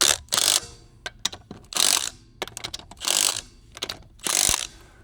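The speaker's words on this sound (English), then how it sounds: "we're gonna do is just go around it again with the impact" An impact wrench tightens the lug nuts on a Can-Am Commander, firing four loud, separate ratcheting bursts of about half a second each. Short mechanical clicks and taps fall in the gaps between them.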